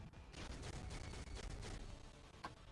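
Galaxy Explosion skill effect from the mobile game Marvel Future Fight, a dense burst of booming, crackling impacts that rolls on for nearly three seconds, then ends with a sharp final hit.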